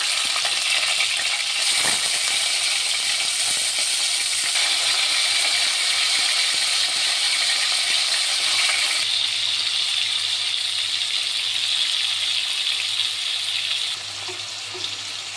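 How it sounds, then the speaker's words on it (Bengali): Prawns fry in hot mustard oil with a steady, loud, broadband sizzle that crackles continuously, with a faint clink near the start and the hiss easing slightly toward the end. "সর্ষের তেলটা গরম হলে এখন আমি মাছগুলোকে ভেজে নেব"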